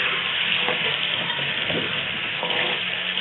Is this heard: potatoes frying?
yes